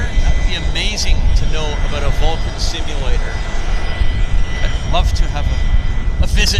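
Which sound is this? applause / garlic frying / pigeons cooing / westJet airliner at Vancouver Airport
westJet airliner at Vancouver Airport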